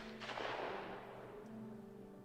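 A single shotgun shot in a junior women's skeet final, a distant muffled boom that decays into a reverberant tail over steady background noise.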